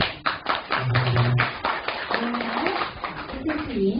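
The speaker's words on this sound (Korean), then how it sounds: "다시 한번 뜨거운 박수" Audience at a poetry book concert gives the poet an enthusiastic round of applause, clapping steadily throughout while voices carry over it.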